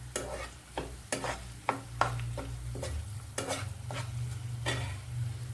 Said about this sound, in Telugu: కచ్చాపచ్చాగా దంచానండి వెల్లుల్లి రెబ్బలు. ఇది కొంచెం వేగాలట.